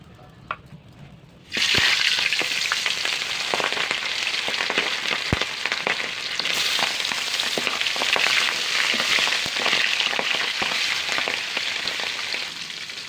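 Pabda fish sizzles loudly in hot oil in a pan, with a crackling frying hiss that bursts in suddenly and then carries on steadily with small pops and spatters.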